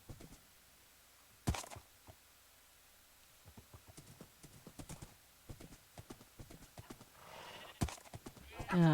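A horse in the game Minecraft clip-clops with scattered hoof steps at an uneven pace, fairly quiet, with a couple of sharper knocks and a brief whinny-like sound near the end.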